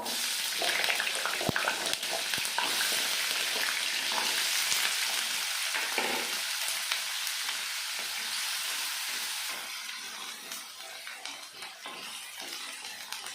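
Potatoes fry in hot oil in a wok, a loud, steady broadband sizzle that runs throughout with occasional stirring clicks, easing slightly quieter toward the end.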